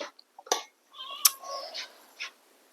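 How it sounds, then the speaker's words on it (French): A cat meows insistently, demanding its food, several short plaintive cries close by in a quiet room, with faint rustling between them. "on donnera sa pâtée au chat qui, comme vous l'entendez, réclame abondamment sa pâtée"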